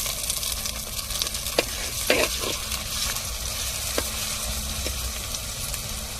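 Ginger, garlic and onion sautéing in a clay pot for crab soup, a constant close sizzle with a few sharp spoon taps and scrapes, no talking over it.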